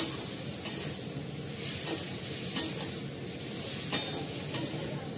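Meat frying in a pan as a spice mix is sautéed and stirred: a constant sizzling hiss, punctuated by sharp spatula scrapes and taps against the pan roughly every second, close and clear, with no talking.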